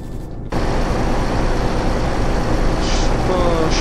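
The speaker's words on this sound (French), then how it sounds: "J'aime pas trop le bruit, par contre, du moteur." Truck engine in Euro Truck Simulator 2, a steady loud low drone with dense rumble that starts abruptly and holds constant throughout.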